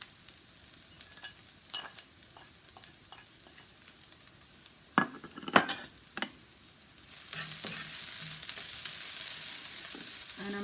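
Curry powder, black pepper and salt frying in a pan over low heat, a faint sizzle with scattered spoon taps and stirring scrapes, then a louder, steadier hiss for the last few seconds.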